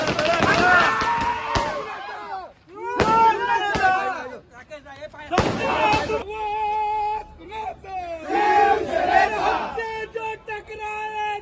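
A large crowd gathered on polling day in the Dapoli–Mandangad–Khed assembly constituency, Maharashtra, shouting and cheering in loud bursts of massed voices with a few sharp slaps or bangs, alternating with brief lulls.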